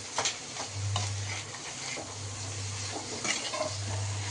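Chicken pieces fry in oil for a Tamil-style chicken roast, a steady broadband sizzle with scraping stir strokes and clinks of a spoon against the pan, no talking.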